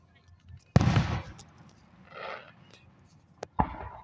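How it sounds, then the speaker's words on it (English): Fireworks show with several sharp bangs and crackles, one strong burst followed by a fizzing tail, then scattered pops at varying distances, with people talking faintly in between. "welcome back to part 2 of the fireworks show"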